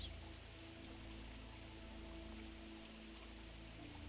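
Water trickles and drips steadily inside a cave, a faint, continuous patter of droplets over a low, quiet background with no voices.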